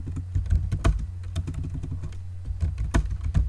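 Irregular clicks of typing on a computer keyboard at a desktop, close and steady, with keystrokes scattered over a low constant hum and no talking.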